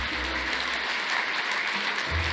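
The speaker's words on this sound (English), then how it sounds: "Let's give it a round of applause." An audience at a sales keynote claps after a magic trick, a steady, even spread of applause with a low hum underneath throughout.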